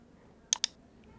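A mouse button clicked twice in quick succession to publish a WordPress post, two sharp, close clicks in a quiet room with no talking.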